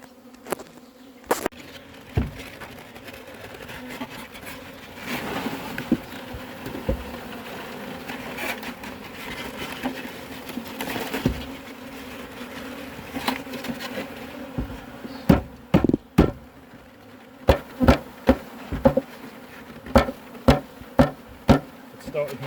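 Honeybees buzz around a hive in a continuous close drone, with sharp knocking and tapping sounds scattered throughout, coming more often toward the end.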